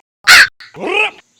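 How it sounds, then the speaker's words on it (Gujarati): Two loud crow caws sound up close in a village comedy skit: a sharp, bright first call and then a longer, rougher second one, with silence around them. "ગમે એ બોલે તો કાગડાનો અવાજ આવે"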